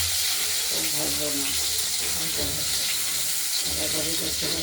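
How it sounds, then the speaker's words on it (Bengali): Cut potato pieces fry in hot oil in a home kitchen pan, giving a steady, loud, broad sizzling hiss that runs without a break. "একটু ভাজা ভাজা করে নেব, তারপর বাঁধাকপিটা দেব।"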